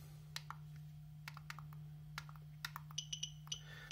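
Clicks from a RADEX OBSIDIAN dosimeter held near a radiation source: sparse, sharp ticks that quicken toward the end over a steady low electrical hum, with faint high beeps near the finish.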